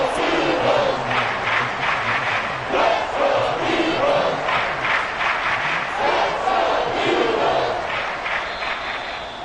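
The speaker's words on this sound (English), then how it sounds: "So this crowd will not go home happy." Stadium crowd in a Madden football video game, a steady loud roar with rising and falling cheers and shouts that carries through the whole stretch without pause.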